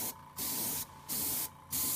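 An airbrush sprays weathering onto the front of a model stab, mimicking kerosene staining: three hissing bursts of spray, each lasting about a quarter to a third of a second, separated by short quiet pauses.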